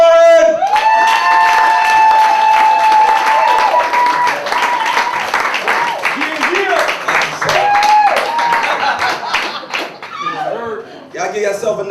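A comedy club crowd cheers, whoops and applauds loudly as a comedian takes the stage, with sustained clapping and shouts; a musical tone rings over the crowd early, and a voice speaks near the end.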